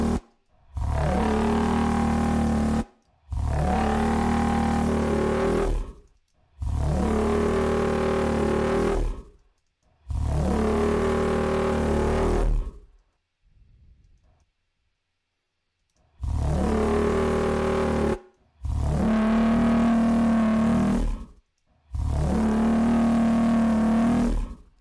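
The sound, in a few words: distorted synth bass made from voice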